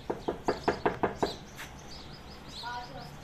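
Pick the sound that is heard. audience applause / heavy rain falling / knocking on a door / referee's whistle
knocking on a door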